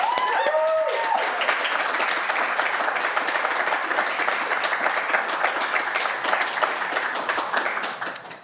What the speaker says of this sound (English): give all the 5 finalists, those ones, another big round of applause